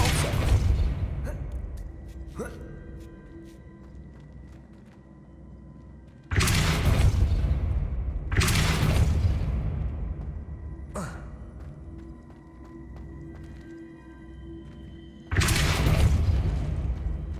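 Depulso spell casts in the Hogwarts Legacy video game, heard as several loud, booming force blasts with whooshing decays, spaced irregularly across the clip between quieter game ambience.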